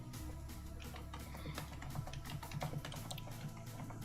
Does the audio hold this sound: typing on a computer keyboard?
yes